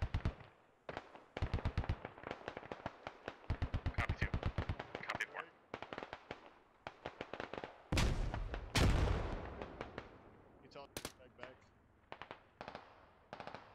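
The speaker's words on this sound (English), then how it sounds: "Laying down some suppressing fire on Nichols." Suppressing gunfire in the military shooter Squad, rapid automatic bursts in repeated rhythmic strings with some heavier single blasts, mid-distance and fairly loud, while voices talk between volleys.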